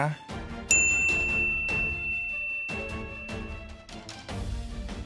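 A notification bell rings out with a sharp bright ding that sustains and decays, set against rhythmic music with repeated percussive hits throughout, without any talking.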